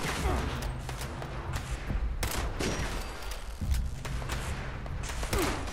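Gunfire from a weapon in the video game Fallout 76, dense and continuous with heavy thumping bursts across the whole stretch, loud and close, with some talk faintly underneath.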